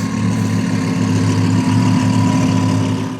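A BMW E60 M5 engine fitted with turbos runs at a steady idle, loud and close, with a deep constant hum and whistling overtones and no speech.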